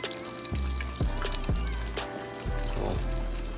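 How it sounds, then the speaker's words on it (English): Puerto Rican stuffed potatoes (rellenos de papa) fry slowly in hot oil with a steady close sizzle, broken by a few soft thuds and clinks as they are turned. "I'm frying them nice and slowly."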